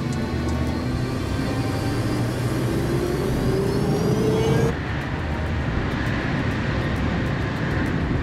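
Aircraft taking off in a movie builds as a loud, steady engine roar with a rising whine, then shifts abruptly into a sustained, lower rumble.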